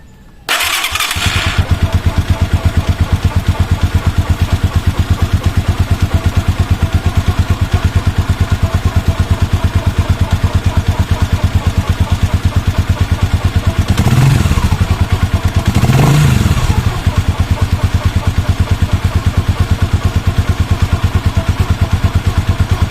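A Rusi motorcycle running on R8 4T SAE 40 oil fires up with a brief start burst, then idles steadily and close by with a constant throbbing beat for the rest of the clip, and two short blips of throttle come near the end.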